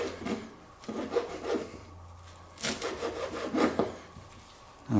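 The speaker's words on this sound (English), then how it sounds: "So I'm just going to chop it like this. Just really finely chop it" A knife finely chops fresh cilantro on a cutting board in a series of quick rasping strokes in uneven bursts, fairly close and with no talk.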